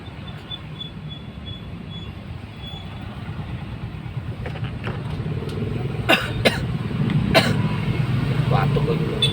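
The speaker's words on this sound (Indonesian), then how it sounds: "Batuk gua juga." A few sharp coughs burst out near the end, close and loud over a low rumbling background, with speech around them.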